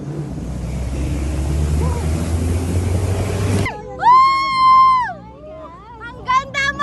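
Sea waves and wind on the Ilocos Norte coast, Philippines, rush loudly for a few seconds, then give way to excited voices shouting and talking.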